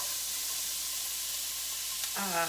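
Chopped Swiss chard stems hiss and sizzle steadily in a hot covered pan, and a voice begins to speak at the very end.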